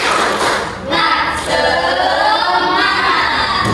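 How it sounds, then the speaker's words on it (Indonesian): Students in a classroom perform a rhythmic group clapping chant, loud claps and shouted voices together in an energetic patterned burst before a math lesson. "Seperti biasa kita tepuk semangat dulu biar kalian semangat"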